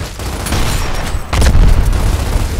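A grenade going off in Gears of War amid a loud battle, a heavy booming blast rising over continuous gunfire and combat noise.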